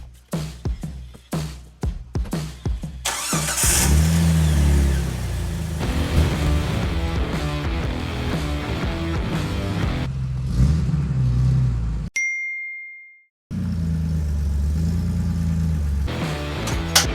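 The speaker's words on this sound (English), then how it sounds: "I'm just gonna turn the Jeep around real quick so we can see the rear" A Jeep TJ's engine runs steadily nearby as it turns around, after a quick series of sharp clicks and knocks at the start, with a brief drop to silence about three quarters of the way through before the engine sound resumes.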